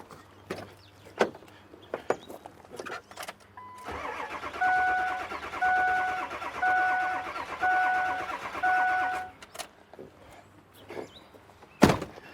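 A Ford F350 truck with a crank-no-start fault is cranked for about five seconds, a steady rhythmic churning that runs close and loud, with a few clicks and thumps before and a sharp knock after.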